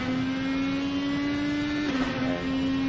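A race car engine in a racing video game on the Daytona Road Course, droning steadily at high revs, with the pitch holding and then dipping slightly as the power is fed back in.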